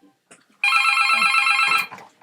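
A telephone rings once in a sustained bright electronic trill lasting just over a second, close and loud, with faint rustling before it and a quiet voice fading after.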